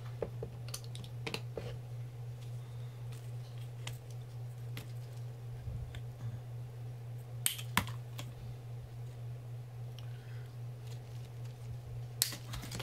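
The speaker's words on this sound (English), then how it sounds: "I have some flowers here I want to cut off and add in there" Scissors snipping flower stems for a fall wreath, sparse sharp clicks and cuts spread over a steady low electrical hum, with no talking.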